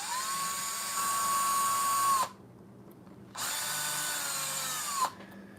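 A power drill whines in two bursts, the motor note dipping at each stop, with a short silence between runs.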